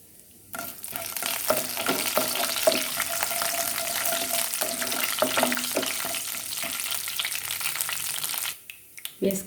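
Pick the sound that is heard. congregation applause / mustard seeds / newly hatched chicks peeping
mustard seeds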